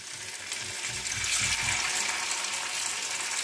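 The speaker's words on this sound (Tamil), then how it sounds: "இப்போ நான் வந்துட்டு திரும்ப ரெண்டு ஃபிஷ் எடுத்து அதில் போட போகிறேன்." Pieces of fish sizzle in hot oil during a home fish fry, giving a steady, close hiss and crackle with no talking.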